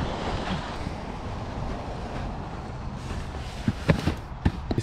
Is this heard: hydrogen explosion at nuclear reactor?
no